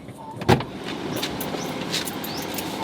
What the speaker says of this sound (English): I'm going to get back in the car.